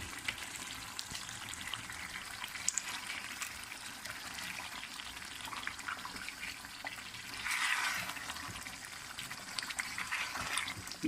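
Cream stirred into chicken korma in a pan makes a soft, continuous wet sizzle and slosh, with a brief louder swirl near the end, faint and steady, with no voices.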